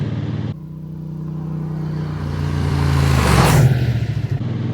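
Triumph Bonneville T100 motorcycle riding past a roadside camera on a country road, engine drone swelling louder as it nears, peaking in a close rushing pass, then a rough rumble continuing.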